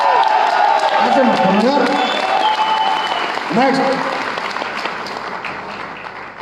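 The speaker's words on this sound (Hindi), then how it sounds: "इतनी ताली, नए प्रोडक्ट कितनी ताली," An audience at a wellness company anniversary event applauds loudly, a dense burst of clapping that slowly tapers off while someone speaks over it.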